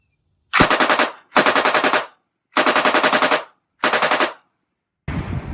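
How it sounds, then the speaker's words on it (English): A Colt Light Machine Gun firing off a full magazine in four loud, close bursts of rapid automatic fire separated by short pauses, then a softer mechanical noise at the end. "we're going to fire off this magazine, and then we're just going to lock open to the rear"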